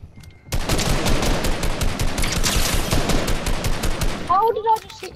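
Dense burst of rapid video-game gunfire, loud and continuous for about four seconds after a quiet start, followed by a few short synthetic tones as the shooting stops.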